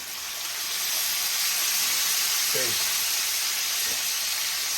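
Steak being basted with butter in a tilted pan, giving a steady close hiss and sizzle of hot fat throughout, with a couple of faint clinks of the spoon against the pan.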